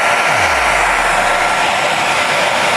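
A hair dryer blasts close and loud at a school notebook in a pen-and-dryer trick, a continuous breathy roar with a brief low hum sliding down as it starts, no talking.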